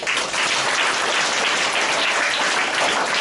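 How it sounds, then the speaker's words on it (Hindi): Loud applause for a child at a cricket association event, a dense continuous roar of many hands clapping at once, steady and full from start to finish without talk. "इनके लिए एक बार जोरदार ताली"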